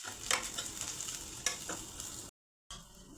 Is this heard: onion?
yes